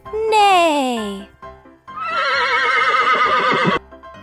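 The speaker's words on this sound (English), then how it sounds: "The horse says, neigh." A horse neighs twice, loud and close: a first whinny falls in pitch, then after a short pause a longer, quavering whinny follows.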